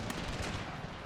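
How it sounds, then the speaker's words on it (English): Musket volleys from a Total War: Pike and Shot battle, a dense continuous crackle of overlapping shots with no clear gaps, loud and close throughout. "I think he's firing at those guys over there."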